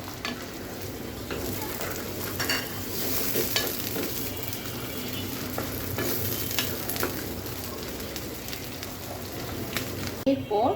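Chicken mince sizzles in a pan for Chinese-style noodles while a utensil stirs and scrapes it, a continuous close frying hiss broken by repeated clanks of stirring.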